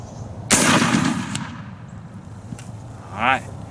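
A single loud, close blast of a 9-pound smoothbore musket fired standing at a target 125 yards away, with a long rumbling echo trailing off, followed by a brief voice.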